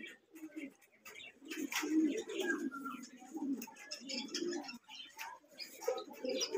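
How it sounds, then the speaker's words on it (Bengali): Pigeons at a Giribaz pigeon farm in Rajshahi coo in soft, repeated low throaty calls, several birds overlapping nearby, with faint chirps in the background. "কবুতর অনেকগুলো আছে, একটা কবুতর খারাপ কবুতর নাই"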